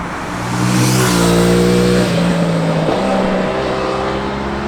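An Aprilia Tuono 660 parallel twin motorcycle with a 270-degree crank revs hard, pitch climbing through a few quick gear shifts, loud and close with a raspy buzzing tone.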